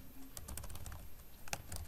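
Keystrokes on a computer keyboard entering an email address into a web app login form, a quick run of soft clicks with a sharper burst of taps near the end, close and fairly quiet.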